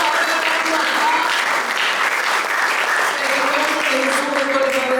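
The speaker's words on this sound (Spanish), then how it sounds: "Un aplauso al Señor" A church congregation claps loudly and steadily, a dense, sustained burst of applause with voices and a held musical tone mixed in.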